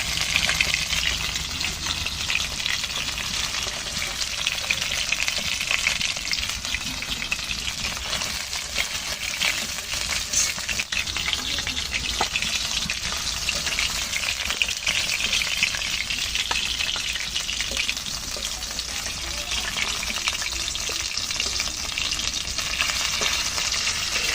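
Fish pieces fry in a pan of hot oil, giving a loud, dense, continuous sizzle and crackle close by that runs unbroken throughout, with no voices.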